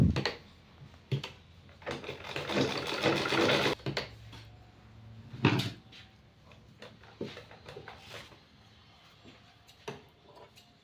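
A sewing machine stitches around a strip of fabric in several short runs, its rapid mechanical clatter rising and stopping between quieter pauses, close up with no talking.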